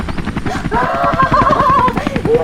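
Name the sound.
helicopter approaching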